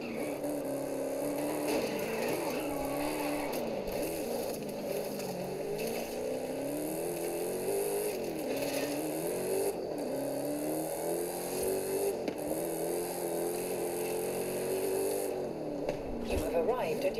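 A car drifting in Forza Horizon 5, its engine revving continuously, with pitch swooping up and down through each slide over a steady bed of road and tyre noise.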